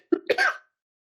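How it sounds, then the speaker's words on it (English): A single short, sharp cough from a person with COVID, close and loud, followed by silence. "I can't stop coughing."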